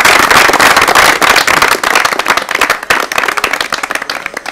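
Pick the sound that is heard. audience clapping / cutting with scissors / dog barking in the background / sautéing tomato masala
audience clapping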